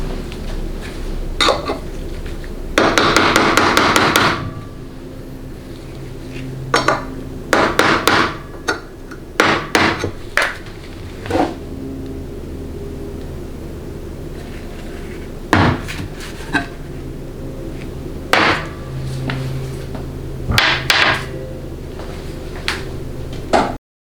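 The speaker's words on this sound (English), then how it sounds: "you can correct on the bench with a hammer and a screwdriver." A hammer taps metal transmission input housing parts on a bench from a Dodge 68RFE rebuild, with a driven screwdriver between them; irregular sharp metallic knocks and a rapid burst of clattering strikes ring out close and loud.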